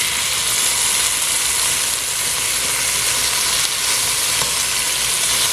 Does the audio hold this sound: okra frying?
yes